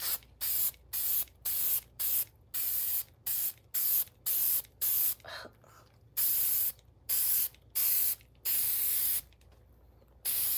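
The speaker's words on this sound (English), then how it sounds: "I'm going to give it a good spray." Repeated short bursts of aerosol sealant spraying onto a shoe hiss in an uneven rhythm, close and loud, with brief pauses between each spray.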